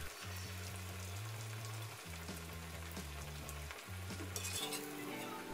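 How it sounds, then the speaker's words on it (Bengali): Bengali oil pitha cakes deep-fry in hot oil, a dense steady bubbling sizzle that runs unbroken and fairly close, with a low droning hum beneath and an occasional light utensil tap, no voices. "হয়ে গেল আমার তেলের পিঠা ভেজে নেওয়া"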